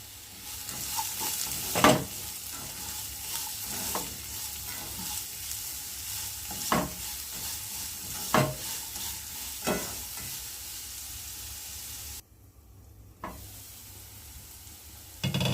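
Sliced onions fry with salt in a pan, a low steady sizzle punctuated by periodic scraping stirs, close by, with a short near-silent gap before the frying resumes.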